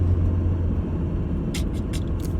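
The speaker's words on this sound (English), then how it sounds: "My car is not sounding very good right now." A car engine running rough, steady low rumble heard from inside or close by, with a few brief higher hissing bursts near the end; no talking.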